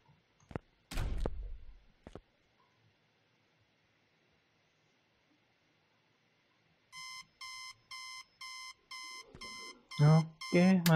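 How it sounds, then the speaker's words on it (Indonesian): In the computer game Internet Cafe Simulator, a bedside alarm clock beeps in a rapid, evenly spaced pattern after a few thuds. It ends in a short burst of talking. "Oke, matiin alarm."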